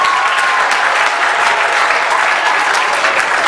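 Audience applause fills a poetry competition hall, dense steady clapping from many hands, loud and close throughout.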